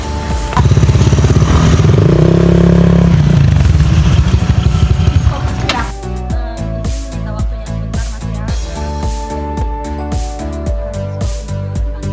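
A motorcycle with an illegal racing exhaust on Sigura-Gura street in Malang, loud and close, revving hard and rasping for several seconds, then dropping to a rough, rapid, popping idle that runs steadily to the end.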